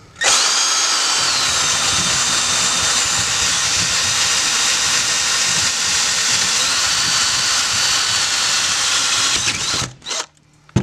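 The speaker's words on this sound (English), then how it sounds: "we're going to drill a hole right here, and we should go right to only drywall" A power drill bores a hole through drywall, a loud continuous whine and grinding held close for about ten seconds, then cutting off abruptly with a short rattle.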